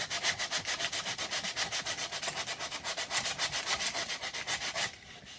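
Sandpaper is rubbed by hand around the inside of a wooden tool tray's handle in quick back-and-forth strokes, a close, rhythmic raspy scratching that continues steadily for about five seconds and then stops.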